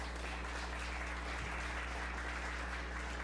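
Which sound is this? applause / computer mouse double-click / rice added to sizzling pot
applause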